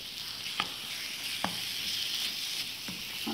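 Chicken fries in a pan for a quiche filling, giving a steady bright sizzle with a few soft scraping stirs of a utensil, close and continuous with no speech.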